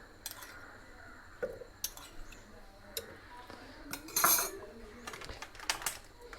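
Thirty jackfruit seeds are dropped into a blender jar, making scattered hard clinks and rattles against the jar, with one louder clattering burst in the middle and quiet gaps in between.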